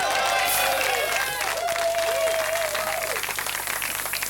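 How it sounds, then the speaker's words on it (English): Studio audience applause on a 1995 radio-TV talk show after a piano performance, loud dense clapping throughout with a sustained tonal hum and a voice speaking over it. "Give him a nice round of applause."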